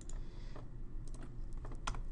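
Computer keyboard keys pressed while working in Blender, a handful of crisp taps spread irregularly over a steady low background hum, with no talking.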